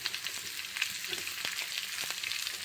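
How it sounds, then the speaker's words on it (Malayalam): Large onions sauté in a pan for an egg curry, giving a soft, steady sizzle with a few faint scrapes and clicks of stirring, close but quiet. "ഇനി നമുക്ക് വലിയ സവാള ഇട്ട് കൊടുക്കാം കേട്ടോ"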